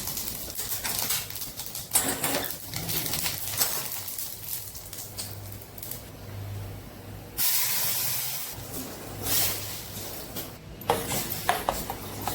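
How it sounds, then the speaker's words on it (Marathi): Mustard seeds crackle and spit in hot oil in a pan while tempering for coconut chutney, a loud sizzling hiss with sharp popping bursts that swells and fades over several seconds. "थोडीशी राई तडतडवायची आहे आपण त्याच्यामध्ये"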